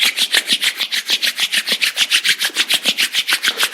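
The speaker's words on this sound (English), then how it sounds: "let's gently start rubbing our palms and create some energy between our hands" Palms rub together briskly in an even back-and-forth rhythm, about twenty dry swishing strokes, close and clear with no other sound.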